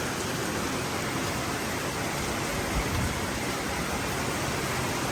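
Heavy rain pours steadily during a sudden storm at an outdoor building site, a dense, even hiss that stays loud and unbroken throughout with no voices.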